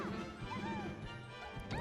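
A down smash landing in Super Smash Bros. Melee during a tournament match between Jigglypuff and Peach, with sharp crashing impact hits over crowd and game noise, faint commentary in the background.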